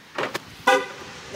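A newly bought first car chirps its horn as it locks, a few short toots close by with a brief clunk, otherwise quiet.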